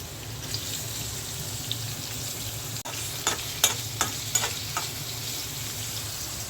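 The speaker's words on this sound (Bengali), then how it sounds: "2টা পাঙ্গাস মাছের পিস ভাজি করে নিচ্ছি।" Two pieces of pangasius fish frying in a pan give a steady, low sizzle, with a few sharp crackles and pops near the end, heard close with no talking.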